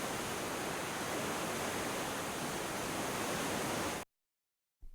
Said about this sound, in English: The water plummets over 60 meters, crashing into the pool below with a deafening roar.